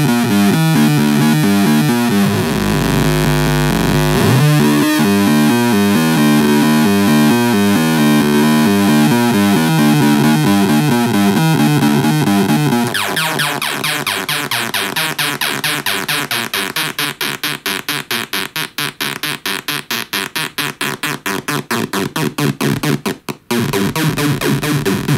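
A harsh, buzzing Serge modular synthesizer oscillator tone built from a sine wave drones steadily and loud, shifting midway into a rapid pulsing, rattling texture with a rich distorted edge.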